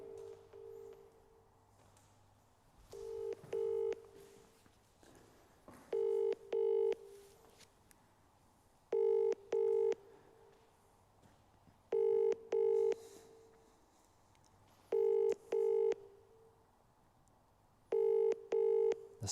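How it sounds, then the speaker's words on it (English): Phone call to Chris being placed, with repeated paired bursts of electronic tone recurring at a steady rhythm for about twenty seconds, clear and fairly loud over a quiet low hum, with no talking. "And then we will give Chris a call."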